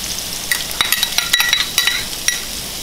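Chopped onion sizzles in hot oil in a pan while a utensil stirs it, a steady bright crackle broken by quick scraping and clinking strokes, loud and close with no voices.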